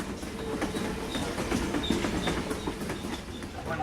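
A passenger train travels on rails in rural Australia, a steady rumbling roll with rhythmic clickety-clack of wheels over joints and faint high squeals, heard from close by.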